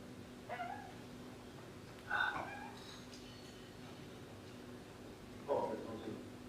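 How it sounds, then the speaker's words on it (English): A desert cat meows from a video playing on a screen, giving three short faint meows spaced a few seconds apart over a low steady room hum, with a voice talking quietly at moments. "There's a desert cat."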